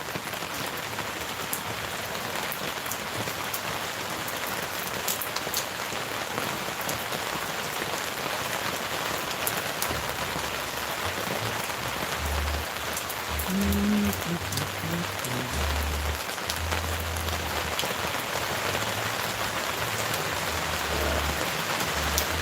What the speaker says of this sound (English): Listen to that rain.